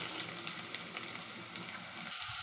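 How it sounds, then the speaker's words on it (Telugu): Bay leaf, cinnamon, cardamom, cloves and peppercorns fry in oil in a pan as onions go in. A close, continuous sizzle holds steady and shifts slightly near the end. "ఇది వేగుతూ ఉంది కదా. ఇప్పుడు దానిలోకి ఆనియన్స్ తీసుకుంటున్నాను."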